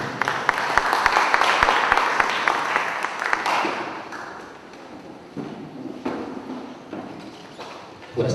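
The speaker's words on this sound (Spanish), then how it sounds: "recibimos con un fuerte aplauso al doctor Roger Casafranca García." An audience claps loudly at first for an arriving speaker at a civil procedure law lecture, the applause thinning out after about four seconds into scattered claps, shuffling and room noise.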